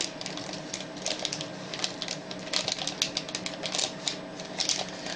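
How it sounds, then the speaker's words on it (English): Tape is pressed and smoothed onto freezer paper lining a soap mold, giving close, quiet, irregular tapping and crinkling clicks with no talk. "I'll show it to you as soon as I get this tape down."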